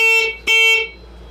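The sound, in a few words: scoreboard substitution buzzer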